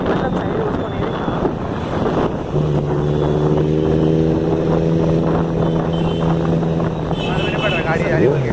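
Benelli TNT 600i motorcycle fitted with an IXIL exhaust in Secunderabad, its steady engine drone rising for several seconds over wind buffeting and street noise, with voices talking nearby.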